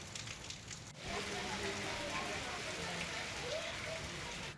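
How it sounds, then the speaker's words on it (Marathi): Hail and rain pelt down during a windy storm, a dense, constant hiss that swells after a brief dip and stays steady, heard from fairly close but at a moderate level. "सांगली शहराला देखील वादळी वाऱ्यासह गारांच्या पावसानं झोडपून काढलं।"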